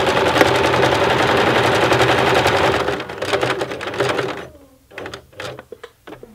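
A sewing machine stitches a tote bag in a loud, steady whir that runs continuously, then slows into short separate bursts of stitching with brief pauses toward the end.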